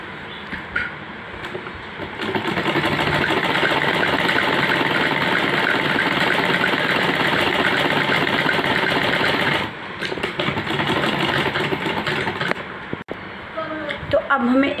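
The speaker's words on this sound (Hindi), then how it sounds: "तो चलिए सबको सिल लेते हैं।" A sewing machine runs in one long, loud, steady burst as it stitches a cloth bag made from leftover fabric, then slows into shorter runs, with a voice speaking briefly near the end.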